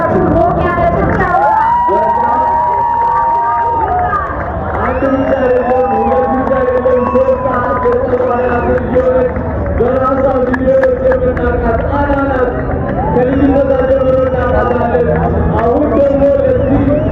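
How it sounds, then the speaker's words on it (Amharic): Crowd cheering and applause at the G-Power TikTok Creative Awards 2025 ceremony, sustained and loud, mixed with shouts and whoops, with voices and music-like tones over it. "እባካችሁ ሞቅ ያለ ጭብጨባ።"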